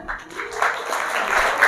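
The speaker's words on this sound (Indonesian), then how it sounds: "tepuk tangan semuanya" A room of students claps together, the applause building from scattered claps into a fuller, louder patter that keeps going to the end.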